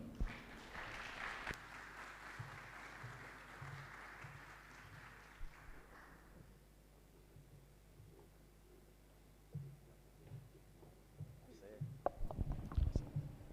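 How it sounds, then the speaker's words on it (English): Audience applause at the Quality Academics 2022 graduation ceremony, a broad wash of clapping that fills the first several seconds and then thins out, leaving quieter room noise and scattered sounds near the end. "keep the applause going for the graduates"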